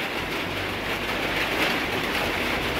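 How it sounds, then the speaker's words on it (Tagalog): Heavy rain pours down in a steady, continuous broadband hiss with a faint low rumble underneath, unbroken from start to finish and with no voices. "Grabe kusuga sa ulan."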